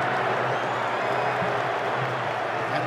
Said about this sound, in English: they're in a boisterous mood here, backed by this huge crowd